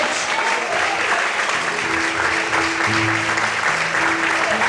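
A church congregation applauds the Lord at an evening service, a dense, steady wash of clapping that holds throughout, with faint tones and voices underneath.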